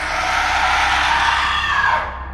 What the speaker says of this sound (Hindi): एक चीख की आवाज़ गूंजी।